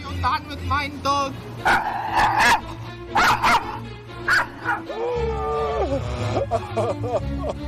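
A dog barks and yips in sharp, repeated bursts close by, with whimpering pitch sweeps between them, while people talk over and around the barking.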